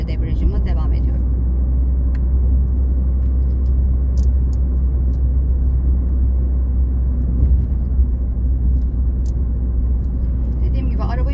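A car engine rumbles steadily as the vehicle rolls along a driving exam course, with the driver easing off the clutch; a loud, continuous low drone persists throughout.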